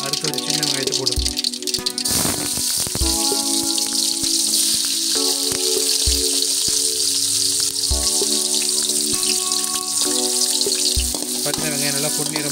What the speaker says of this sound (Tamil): அடுத்து ஒரு சின்ன வெங்காயத்தை போட்டுக்கலாம்